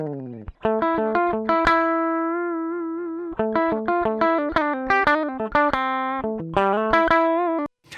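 Clean, unprocessed direct-input electric guitar signal, plucked notes one after another in a melodic line with a short pause midway, dry and close.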